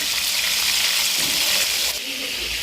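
Fish fries in a pan with a dense, steady sizzle and hiss, fairly loud and close. The sizzle drops slightly in level toward the end.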